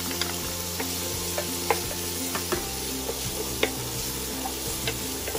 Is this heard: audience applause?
no